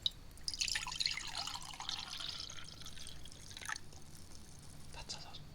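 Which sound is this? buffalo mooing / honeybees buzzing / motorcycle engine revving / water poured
water poured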